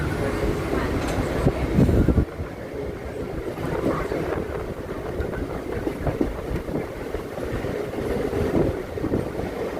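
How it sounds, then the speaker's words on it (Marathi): An Andheri–Virar double fast EMU commuter train races along at speed, heard from inside as a steady dense roar of wheels and rushing wind buffeting the microphone, with a brief louder thump early on. "काय स्पीडवर चालते ट्रेन."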